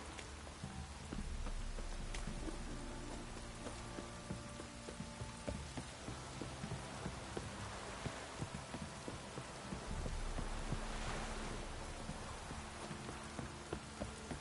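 Steady rain pours down in a constant, quiet hiss in the video game The Witcher, with scattered drops and faint clopping sounds mixed in.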